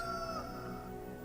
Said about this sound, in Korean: 바로 닭울음 소리가 들려요.